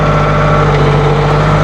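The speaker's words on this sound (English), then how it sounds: "Want to fire it up, get the hydraulics really revving." A Massey tractor engine runs loud and steady close by, revved to drive its high-flow hydraulics, with a constant low droning hum and no voices.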